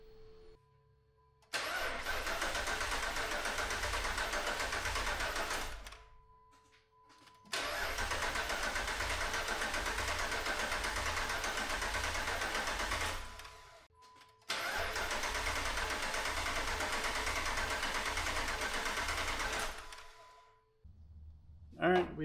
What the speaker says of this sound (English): So we can go ahead and turn over the motor and prime everything with engine oil.